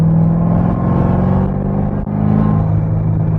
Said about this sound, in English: So here's what the exhaust open,